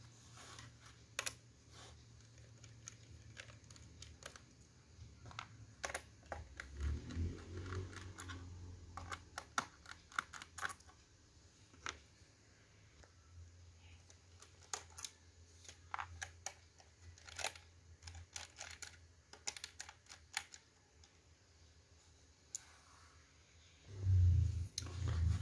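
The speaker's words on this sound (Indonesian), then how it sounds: "Jadi 8 baut ini kita buka terlebih dahulu." Eight small screws being backed out of the underside of a Dell Inspiron Mini 1012 netbook with a faulty speaker, giving close, faint scattered clicks and light scraping taps at an irregular pace, with a louder handling clatter near the end.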